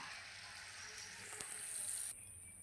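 Peanut pakoras sizzle steadily in hot oil over a low flame, a close, continuous bubbling hiss with one brief sharp crackle before it quietens near the end.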